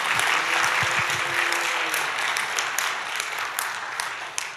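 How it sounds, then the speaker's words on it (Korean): A church congregation claps together in a sustained burst of applause that fills the room, fading slightly toward the end, with a voice briefly audible near the start. "여러분, 이 좋은 교회 한번 박수로 하나님께 영광 올리겠습니다."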